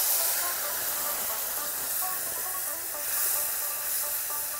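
Turmeric, red chili, cumin and coriander powders sizzle in a hot pan right after a little water goes in, while a pointed gourd curry is being cooked. A loud, steady hiss fills the whole stretch with no one speaking.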